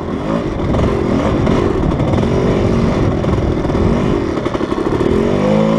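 A GasGas dirt bike climbing a hill during a club night trail ride, its engine loud and close, revving hard and wavering under load the whole time with clattering from the machine.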